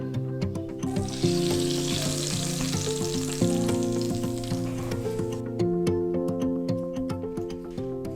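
Hot tadka of oil and browned dried red chillies sizzles steadily as it is poured over spinach and fenugreek saag, a close, continuous crackling frying hiss with light stirring clicks and a faint ticking.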